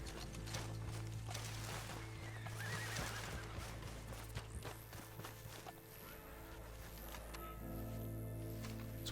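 A horse in Red Dead Online lets out a loud whinny while its hooves clip-clop on the ground, with the horse close by and no speech over it.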